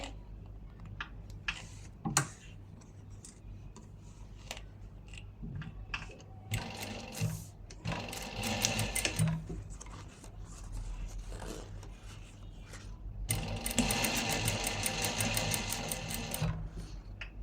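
A sewing machine stitches fabric close up in a home setting, its needle chattering in rapid bursts that start and stop between quieter handling sounds, with brief rustles and clicks in the pauses.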